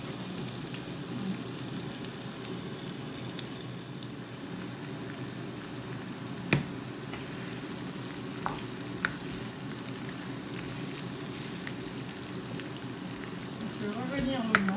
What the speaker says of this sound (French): On fait revenir l'oignon.